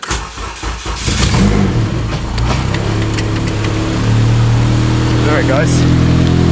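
A Honda Civic with a K20 engine runs loud and close, its steady engine drone rising slightly as it revs, with a person speaking briefly over it at the start.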